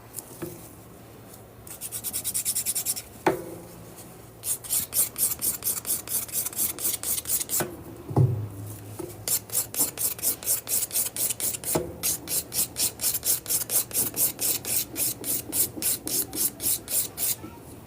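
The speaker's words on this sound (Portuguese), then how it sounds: "a gente vai olhando onde é que precisa ser ajustado, onde precisa lixar." Polygel nail filed with a nail file: long runs of steady rasping strokes in a quick, even rhythm, loud and close, with a few brief pauses and knocks between passes and no talking.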